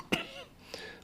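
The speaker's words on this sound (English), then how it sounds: "Why am I suddenly coughing?" A single short cough bursts out, followed by a softer throaty sound, close and fairly quiet with nothing else around it.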